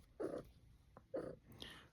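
A cat makes two soft, short "meh" vocalizations close by, quiet and separated by a brief pause.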